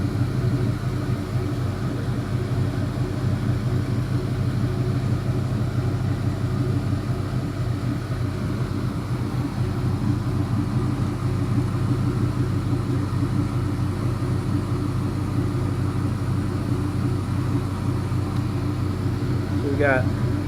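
A Chevy LS 5.3 V8 engine idles with a steady, low rumble, continuous and even, close by, with a faint hum on top and no change in pace.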